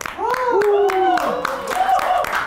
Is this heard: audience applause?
yes